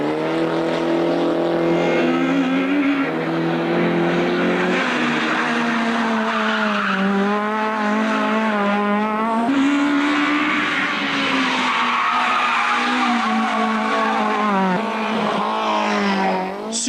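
A Renault Mégane race car drives at speed, its engine roaring loud and close with rising and falling pitch through gear changes and throttle lifts, with tyre squeal mixed in, held continuously with no talk.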